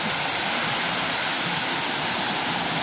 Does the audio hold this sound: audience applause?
no